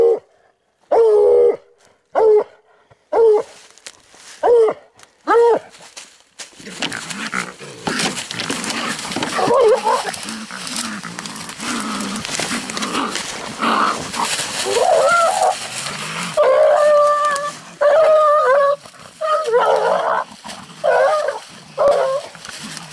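Bluetick hounds bay at a treed raccoon, loud drawn-out howls and barks repeating in sharp bursts, then blending into a continuous clamor of several dogs close by.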